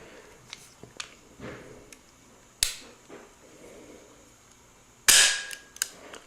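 An Umarex Beretta CX4 Storm air gun fires two sharp, loud cracks a few seconds apart, amid faint handling clicks and soft rustling nearby.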